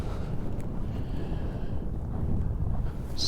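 Steady wind gusting outdoors in snow at about -15 Celsius, a continuous low rumble buffeting the microphone throughout, with no talk.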